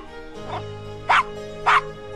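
A small dog in the Gabriel Knight adventure game barks or yips three times in short bursts, spaced about half a second apart, over a steady low background hum.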